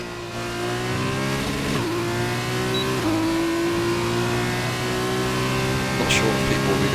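F2 race car engine heard onboard in the rFactor 2 racing game at the Austrian GP, a loud continuous high-pitched whine that climbs and shifts through gears, with a faint squeal near the end.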